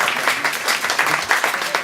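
Applause from the audience at a company meetup, a dense burst of many hands clapping close and fairly loud, with an uneven, pulsing texture.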